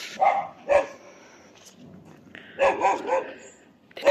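Dogs bark outdoors on a winter day: sharp, close barks come in two short bursts, a pair early and a quicker cluster later, separated by quiet.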